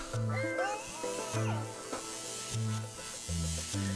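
A cartoonish cat in the game Machinarium gives a few short, tonal meows in a repeating pattern, under quiet game sounds.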